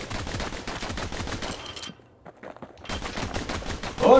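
Rapid gunfire from shooting in the action game Bastion, dense bursts of shots and impacts that stop briefly mid-clip, then resume loud and busy.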